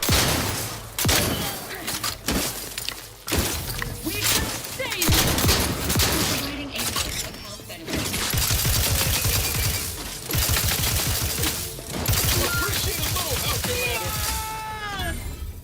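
Rapid gunfire rattles through a firefight in The Outer Worlds 2, bursts of automatic shots in quick repeated runs, loud and near, with a voice talking over parts of the shooting.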